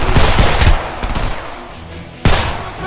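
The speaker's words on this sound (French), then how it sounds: "Ça mitraille dans ma direction!" Rapid machine gun bursts in the video game Homefront, loud and close, with a sharp burst early, a lull of scattered shots, then another loud burst near the end.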